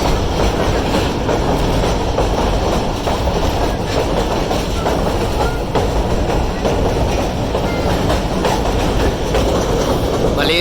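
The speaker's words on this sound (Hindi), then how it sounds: "मलेर ब्रिज से पास हो रही है 48 टाउन रहमान बाबा एक्सप्रेस।" The Rehman Baba Express crosses the Malir bridge, a loud, continuous rumble of wheels and carriages with rhythmic clickety-clack, heard close and steady throughout.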